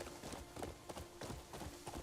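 Horse hooves clop in a fast, even rhythm while riding in the video game Crimson Desert, a muffled, close galloping pattern set over a continuous low ambient bed.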